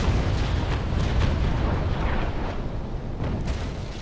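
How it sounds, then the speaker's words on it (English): Broadside cannon fire from the frigate Trincomalee in the Naval Action naval combat game, a rolling barrage of heavy booms blending into one another, loud and continuous for several seconds. "the cannons, they just keep on pouring out the fire"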